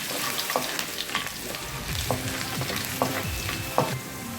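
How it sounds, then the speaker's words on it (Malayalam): Chopped ginger and garlic sautéing in a pan for a Kerala beef curry give a constant close sizzle, with repeated spatula scrapes and taps roughly every second; no talk. "ഇനി ഇതിന്റെ പച്ചമണം മാറുന്നത് വരെ ഒന്ന് വഴറ്റി കൊടുക്കാം."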